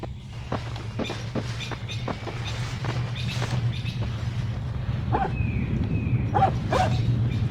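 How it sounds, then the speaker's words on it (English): A dog barking in the video game 35mm, a series of sharp, evenly spaced barks over a low rumbling drone, with a rising whistle-like tone near the end. "Dog."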